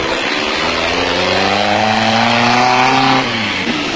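An off-road race car in the 1991 Toyota 1000 off-road race in South Africa roars loudly and steadily, its pitch climbing as it accelerates, then dropping slightly as it pulls away.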